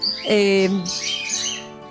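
A pet bird such as a canary gives one loud squawking call that slides downward and lasts about half a second. Softer chirps and a bit of voice follow.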